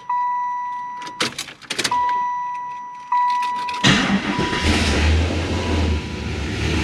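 A 1995 Chevrolet Impala SS with an LSX engine, just back on fuel after a tank strap replacement, with a door-open chime and key clicks before the starter cranks briefly and the engine catches, then settles into a loud, rumbling idle close by.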